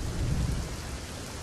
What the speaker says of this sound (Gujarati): તમામ જગ્યાએ ભારે વરસાદ જે છે તે વરસ્યો છે